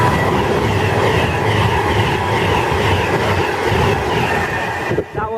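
A Class 390 electric train, unit 390.049 bound for London Euston, passes through platform 4 at Milton Keynes Central in a loud, continuous rush with wheel noise and faint squeal, cutting off abruptly near the end.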